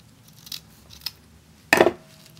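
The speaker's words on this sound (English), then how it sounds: "get your scissors and cut it on an angle" Steel scissors snip through the folded end of a hair-bow ribbon at an angle: a few faint clicks, then a single crisp, close cut.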